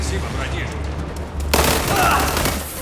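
Sustained gunfire in the video game World War 3, a dense fusillade that erupts loudly halfway through after quieter battle ambience, with talk mixed in.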